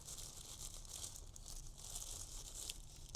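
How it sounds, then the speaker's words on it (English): A plastic bag wrapping a Viofo A119 Mini 2 dash cam crinkles and rustles close by in soft irregular bursts, quiet and continuous, with no talking. "The dash cam itself is wrapped in this plastic bag."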